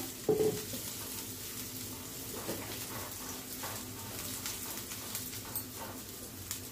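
Steady sizzling of onion sautéing in oil in a hot pan, a soft continuous crackle with a brief louder clink near the start.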